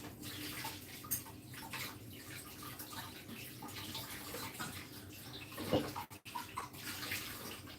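Running water splashes steadily as a transparent cup is rinsed under it, with a continuous wash of water and a few brief knocks and clatters near the end.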